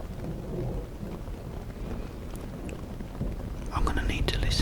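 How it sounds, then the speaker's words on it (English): Rain pours steadily on a stormy night, and thunder rumbles low beneath it. Crackling bursts near the end add to the loud, dense wash. "I'm gonna need to listen to this rain now, guys, just to calm myself."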